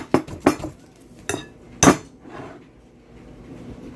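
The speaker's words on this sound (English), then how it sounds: "take one overly ripe banana and smash it" A masher smashing an overly ripe banana in a bowl: four sharp, clattering impacts in quick succession, close and loud, followed by a softer scrape and a quiet tail.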